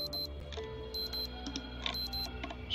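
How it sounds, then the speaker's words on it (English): Digital wristwatches in the game Project Zomboid beep repeatedly in short overlapping electronic chirps, a dense cluster of alarm tones from a large stash of watches, sounding alone over a faint steady hum. "It's not my watch that's beeping, it's the fact that I've got like 320 watches."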